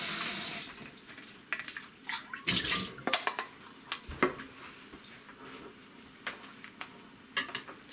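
Blanched sculpin liver rinsed under running tap water, with a steady splashing wash broken by irregular louder bursts of water and handling, close by and with no talking.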